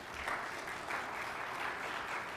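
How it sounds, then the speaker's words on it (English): Audience applause at an education ministry stakeholder meeting with a business and energy chamber, a steady, even patter of many hands clapping, moderate and a little distant throughout. "I think that deserves a round of applause."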